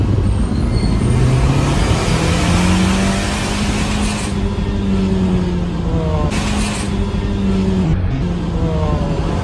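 A DC Avanti sports car engine revs loudly and close in a public setting, rising and falling in long swells over steady road noise, with a short exclamation from a bystander near the start.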